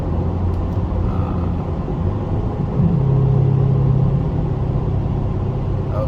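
Low, steady rumble of a Chevrolet Corvette C8 V8 with its exhaust valves open, cruising softly, with a brief swell in tone midway.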